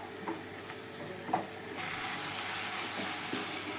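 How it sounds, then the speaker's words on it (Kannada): Onion, coriander, green chilli, cumin and pepper fry in a pan for buttermilk sambar, a steady close sizzle with occasional stirring scrapes that grows louder and denser partway through, with no talking. "ಅದು ಹಸಿ ಸ್ಮೆಲ್ಲು ಸ್ವಲ್ಪ ಹೋಗೋವರೆಗೂ ಫ್ರೈ ಮಾಡ್ಕೊಳ್ಳೋಣ"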